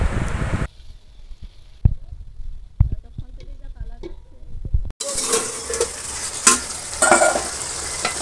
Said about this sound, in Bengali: এবার মশলা মাখিয়ে রাখা চিকেনটা দিয়ে দিল কড়াইতে।